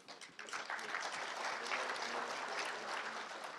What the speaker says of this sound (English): So big round of applause to Magento